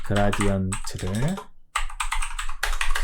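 Rapid clicking of a computer keyboard as code is typed, bursts of keystrokes with short pauses, close and clear, with a voice speaking over the first part.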